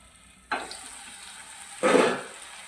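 Telangana-style chicken fry sizzling in a pan, with two sharp bursts of frying hiss, the second louder and longer, over a quiet kitchen background.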